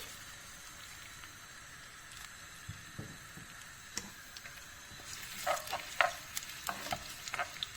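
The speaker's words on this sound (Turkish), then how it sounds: "Soğan ve bir tane havucumuzu birazcık kavuruyoruz." Quiet, steady sizzling of chopped onion and a carrot frying in vegetable oil, with scattered soft clicks and scrapes of stirring growing busier toward the end.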